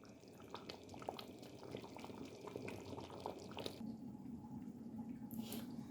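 Tomato pasta sauce simmers in a pot, a soft steady bubbling with small pops and drips, faint and continuous throughout.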